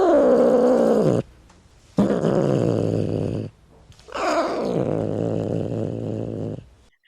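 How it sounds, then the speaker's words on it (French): A cat inside a ventilated transport carrier lets out three long, loud, close hisses separated by short pauses. "Seuls de longs sifflements ébouriffés provenaient de la cage ajourée à intervalles réguliers."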